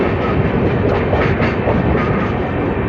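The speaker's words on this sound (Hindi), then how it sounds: "ये किसी ट्रेन को ओवरटेक कर रहे हैं हम लोग।" The Tinsukia–Bengaluru Express overtakes another train on a line near a junction with a branch toward Secunderabad: a loud, steady rumble of wheels and carriages with a dense rattling clatter and no pauses.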